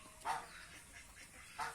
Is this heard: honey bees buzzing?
no